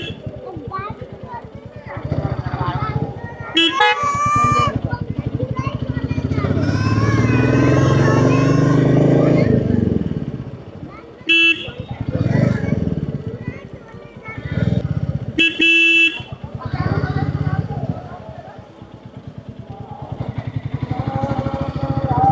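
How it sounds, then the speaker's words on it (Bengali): Jammed road traffic on the Vrindavan parikrama route during Kamika Ekadashi, motorcycle engines revving and rumbling close by with short horn honks, steady throughout under a continuous crowd of voices. "তো দেখতে পাচ্ছেন পুরো রাস্তা জাম চলছে।"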